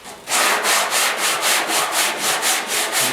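Body filler on the cab corner of a 1956 Mercury is worked over with 80 grit sandpaper. Strokes are steady and rhythmic, about a dozen in a row, close and loud with no talk.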